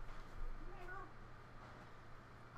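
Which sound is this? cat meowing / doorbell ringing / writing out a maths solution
cat meowing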